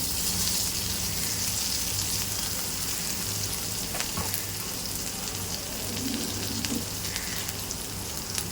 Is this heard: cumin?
yes